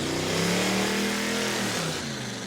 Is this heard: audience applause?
no